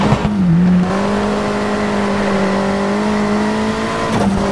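Ford RS200 rally car engine in the racing game Rush Rally 3 on an Argentina stage, a steady loud drone holding near-constant pitch with a brief shift early on, no voices.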